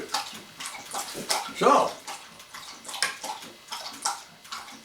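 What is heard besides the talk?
hound dog drinking water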